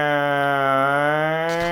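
A man imitates a tornado siren with his voice, a steady, loud, sustained wail that holds one pitch and drifts slightly before breaking off at the end.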